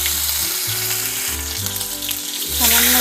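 Ginger and cumin paste sizzles and fries loudly in a pan, a continuous close crackle with stirring scrapes, rising as a hiss near the end.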